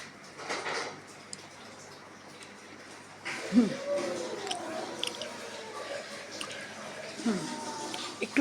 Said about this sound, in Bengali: আমি সমানে খেয়ে নিচ্ছি